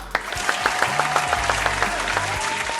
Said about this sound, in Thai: ขอเสียงปรบมือดังๆต้อนรับผู้โชคดีในวันนี้ 2 ท่านเลยครับ